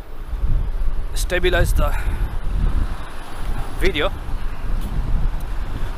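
Gusty wind buffets a smartphone microphone while someone walks outdoors in cold, windy weather, a loud continuous low rumble and roar, with someone talking over it and a couple of brief high tonal chirps.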